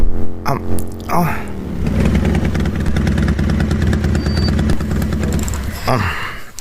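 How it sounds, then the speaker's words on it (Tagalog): A motorcycle engine idles nearby with a low steady rumble, broken up by loud speech at the start and end. "Isardang ko ti motor ko."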